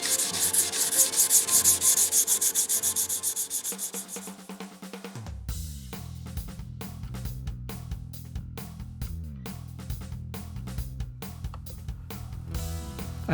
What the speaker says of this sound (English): just level the pumice and just continue right back on with the French polishing